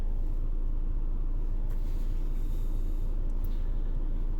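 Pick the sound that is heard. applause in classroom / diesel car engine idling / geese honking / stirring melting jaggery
diesel car engine idling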